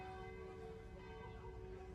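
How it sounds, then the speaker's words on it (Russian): Church bells ring in the distance over Montepulciano in Tuscany, a faint, sustained tolling with a steady ringing tone hanging over quiet countryside air. "Издалека доносится колокольный звон."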